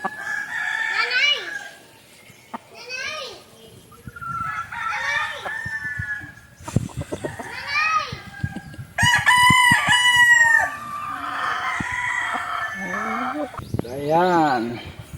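Several close, loud crows come from a white Kelso rooster with a straight comb and white ears, mixed with clucking from other chickens and a person talking.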